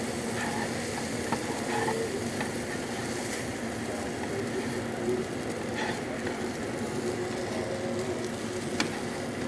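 Duck or chicken eggs sizzle and crackle steadily in a hot skillet, with an occasional scrape of a utensil against the pan.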